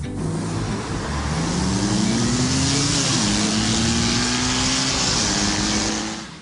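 A motor vehicle on a test ride drives past, its engine note rising steadily in a continuous, loud drone for several seconds with no voices.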